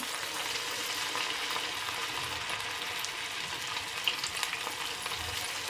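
Chicken 65 pieces fry in hot oil with a steady, soft, close sizzle and bubbling crackle, continuous and without talk, plus a couple of light clinks near the end.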